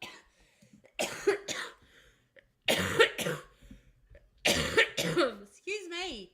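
A person coughs repeatedly in harsh bursts, several fits separated by short pauses, close to the microphone.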